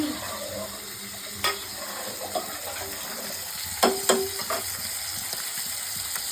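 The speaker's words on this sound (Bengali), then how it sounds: "এদিকে মাছটা ভেজে নিচ্ছি।" Four pieces of fish frying in a pan, a continuous close sizzle with a few sharp clinks and scrapes of a utensil against the pan, no voices.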